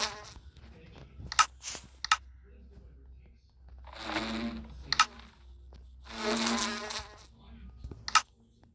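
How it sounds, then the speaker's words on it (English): Two bursts of buzzing bees at a nest in Minecraft Bedrock Edition, rising and fading between sharp clicks and short game sound effects. "there is bees in that bee's nest"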